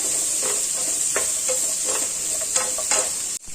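Chopped tomato, ginger and garlic sautéing in a pan for restaurant-style paneer butter masala, a constant bright sizzle with regular spatula stirs scraping through it, close and fairly loud, ending with an abrupt cut.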